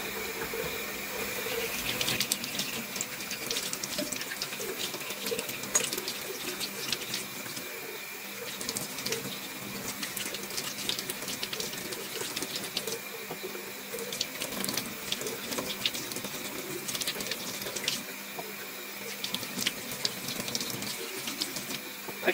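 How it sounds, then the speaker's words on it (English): Tap water runs steadily into a sink with rustling and clattering as carrots are rinsed beneath it, close by, no talking. "So let's wash these under the tap."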